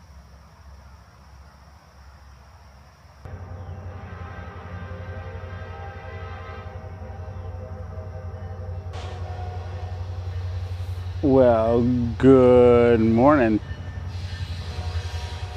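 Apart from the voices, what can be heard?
passing train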